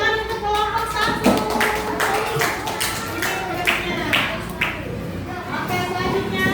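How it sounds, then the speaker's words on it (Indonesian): Students in a classroom applaud a presenting group, scattered irregular claps from several people throughout, with voices talking underneath. "Tepuk tangan untuk kelompok 1."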